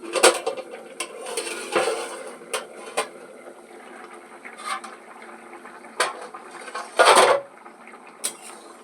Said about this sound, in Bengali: তো এবার আমি এটাকে ঢাকনা খুলবো